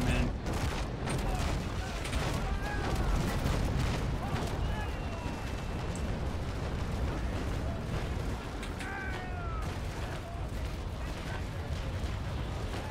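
Broadside cannon fire from sailing warships in the naval combat game Naval Action, a dense continuous barrage of heavy booms rolling on for the whole stretch, loud and layered with battle noise.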